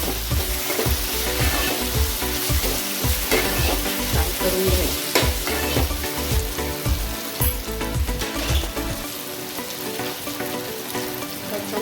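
Onion and tomato fry in a pan with a loud, continuous sizzle, broken by repeated scraping and stirring strokes in an uneven rhythm; nobody speaks.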